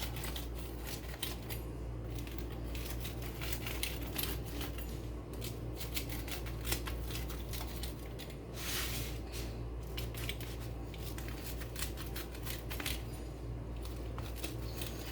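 A cooked, crisp mutabbaq is cut up after frying, heard as a steady scraping and crunching under a constant kitchen background hum, without any talking.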